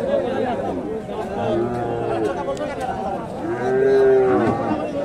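A Friesian cross heifer moos twice, loud and drawn out, amid the busy chatter of a crowded outdoor cattle market in Hasokhali with voices talking all around.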